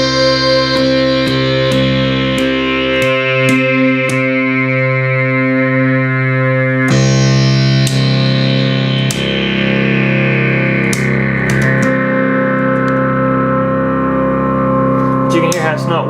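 A 1975 Minimoog Model D synthesizer that still needs calibration, its oscillators slightly out of tune, holding sustained buzzy tones that shift between octave ranges with beating harmonics and brief clicks, loud and steady, no speech.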